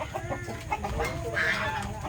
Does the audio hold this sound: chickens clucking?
yes